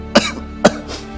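Two sharp, close coughs about half a second apart, each a loud burst followed by a raspy tail, from someone with a persistent three-year cough.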